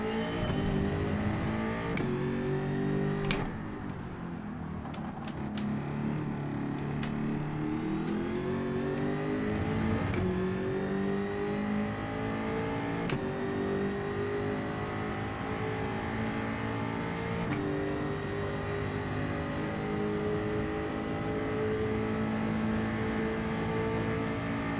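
A Group 3 race car engine in the Gran Turismo 7 video game at Fuji International Speedway howls close and loud, revving up through the gears, dropping sharply under braking, then pulling hard again through a long sustained run.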